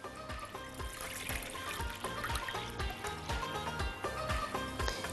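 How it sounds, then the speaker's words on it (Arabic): Milk poured into a pot for a Dream Cream caramel tart, a steady liquid trickle and splash running continuously throughout with faint clatter, no talking. "احط الحليب"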